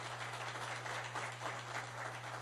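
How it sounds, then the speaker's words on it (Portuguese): Faint, distant applause patters steadily over a low electrical hum at a symposium lecture, with no one speaking. "Eu peço uma salva de palmas"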